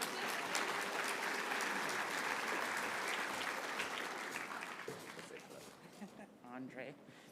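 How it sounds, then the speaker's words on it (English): A room of attendees applauds warmly at a gathering before a speaker takes the stage, the steady clapping fading over several seconds as a voice begins talking near the end. "Round of applause"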